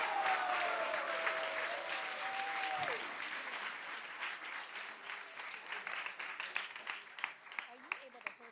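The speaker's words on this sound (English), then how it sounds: "a big round of applause for our young students" Sustained applause from a temple congregation at ISKCON Dallas for young students, full and continuous at first, then thinning into scattered claps toward the end, with a brief voice early on.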